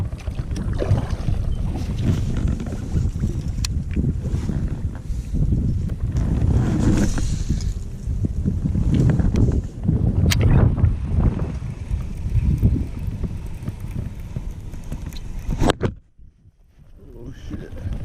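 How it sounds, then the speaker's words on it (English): Strong wind on a windy day on the California Delta buffets the microphone from a boat on the water, a loud, gusting roar that surges and dips, then cuts out briefly near the end. "gonna be a windy one today"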